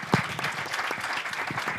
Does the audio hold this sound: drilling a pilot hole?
no